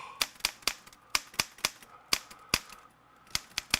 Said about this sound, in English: All y'all gonna be buying some Royal typewriters now.